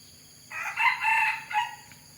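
A rooster, a jungle fowl crossbreed, crows once, a loud, drawn-out call in several rising and falling segments, fairly close against a quiet background.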